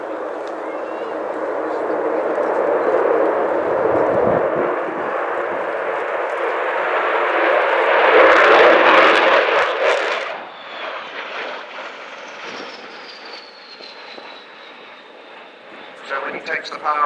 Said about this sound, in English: So as Kev brings the Vulcan in along the runway, along the display line